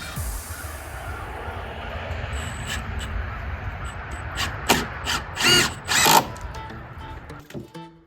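A power drill drives a screw into a wooden ramp board, with a low whir building into several loud, close bursts of grinding as the screw bites and seats, then stops.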